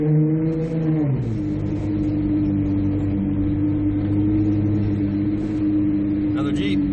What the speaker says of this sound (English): Another Jeep.